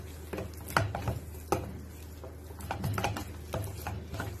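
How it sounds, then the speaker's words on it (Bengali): Boiled bitter gourd and potato being mashed by hand with salt and green chili, giving soft squelching presses and several sharper wet slaps at an irregular pace, close and moderately quiet over a steady low hum, with no talking. "তো নুন কাঁচা লঙ্কা দিয়ে উচ্ছে আলুটা মেখে নিচ্ছি।"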